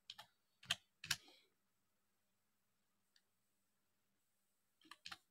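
Short bursts of typing on a computer keyboard, quick clusters of key clicks separated by long quiet gaps, close and fairly faint, no voices.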